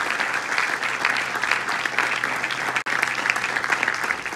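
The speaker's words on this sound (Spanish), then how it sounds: "fuerte aplauso." A full crowd at a 2024 nursing capping ceremony at Inter Arecibo keeps up sustained, energetic clapping, loud and even throughout with one brief dip.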